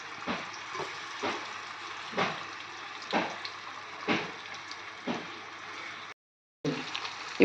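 Salted, chili-spiced pieces of guddakhurai fish frying in hot oil in a pan, a steady sizzle punctuated by regular stirring scrapes about once per second, close and moderately loud, with no talking.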